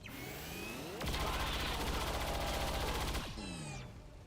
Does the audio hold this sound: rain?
no